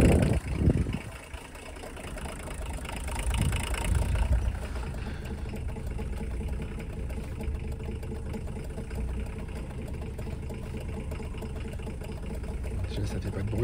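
A Volvo 240 engine runs at a low, steady idle in the background, a quiet continuous rumble, with a few brief knocks and handling noises near the start.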